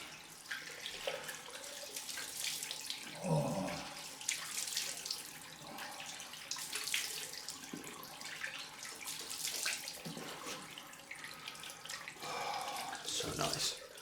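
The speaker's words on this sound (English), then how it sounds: "Straight into the cold rinse." Cold tap water runs steadily into a bathroom sink as a face is rinsed after a wet shave, with close splashing and hand-cupping sounds through the whole stretch and a few louder splashes.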